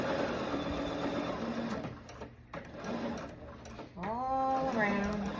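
A sewing machine stitches rows of gathering around a garment sleeve with its presser foot lowered, a close steady mechanical whir that pauses briefly twice before a voice speaks near the end.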